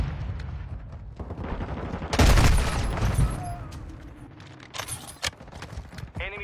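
Gunfire in a shooter video game, bursts of shots with a dense loud volley in the middle and scattered sharper reports after it, over a steady busy game soundscape.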